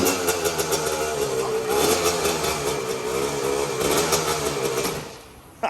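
A Honda CR125R two-stroke dirt bike engine runs steadily and close by, with a buzzy continuous drone and small surges of revving throughout, then cutting off near the end.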